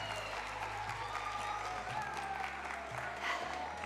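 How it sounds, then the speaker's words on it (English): Steady applause from a crowd, a continuous wash of clapping with a low hum underneath, fairly distant and even throughout. "Give her a round of applause."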